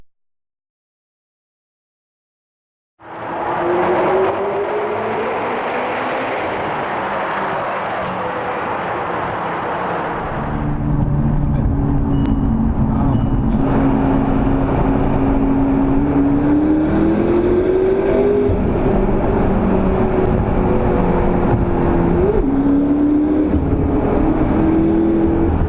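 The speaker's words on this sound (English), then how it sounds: "The McLaren has a very unique sound." A McLaren 12C Spider supercar engine fires up after a brief silence, then holds a loud, close, continuous drone whose pitch climbs and dips as it revs and drives off, with no voices over it.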